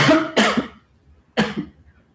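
Two harsh coughs, the first a quick double burst, then a pause and a single louder cough, close and clear with no talking.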